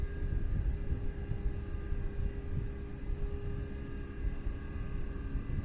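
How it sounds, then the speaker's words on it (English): A farmer's tractor works in the fields just beyond a riverbank, heard as a low, steady engine hum and rumble with faint tonal drone, distant and continuous beside a quiet river lock. "farmer in his tractor just over the other side of the bank in the fields."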